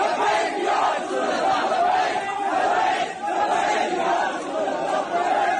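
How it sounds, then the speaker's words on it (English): Large Pakistani crowd chanting the slogan Labbaik Ya Rasulallah in unison, a loud continuous roar of massed voices rising and falling in waves throughout. "crowds of Muslims then gather in Pakistan and shout slogans"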